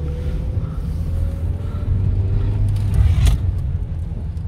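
A car engine rumbles up close on a skidpan with traction control off, revving and surging unevenly, with brief sharp tyre squeals breaking through partway.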